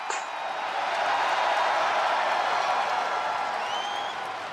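Crowd noise from a WWE 2K25 wrestling video game arena, a steady broad roar of cheering and applause that holds at a constant level for the whole stretch without any voices over it.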